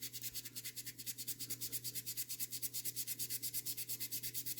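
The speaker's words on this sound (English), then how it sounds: "But since this skin is smooth, I can sand them out." Steady rapid back-and-forth sanding strokes rasp against the smooth skin of a printed miniature model, close and fairly quiet, over a faint low hum.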